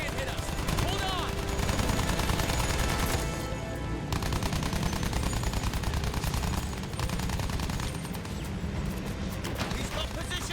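Aerial gunners in Battlefield 1 firing rapid, continuous bursts amid roaring engine noise and battle clatter, dense and loud throughout, with voices underneath.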